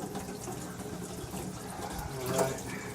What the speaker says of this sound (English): I got water running through it right now.